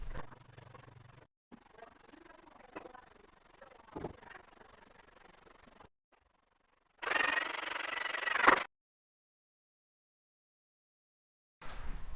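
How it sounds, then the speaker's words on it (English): A thin spatula scrapes excess compound from the panels of a DIY dropped-ceiling light box in close, quiet rubbing strokes. Silent pauses separate the strokes, and a louder, harsher burst of scraping comes near the end. "Remove any excess compound with a thin spatula."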